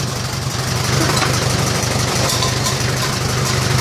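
A restored tractor engine runs steadily at idle on battery power with no alternator, a loud, constant mechanical chug with a rattly, even rhythm close by.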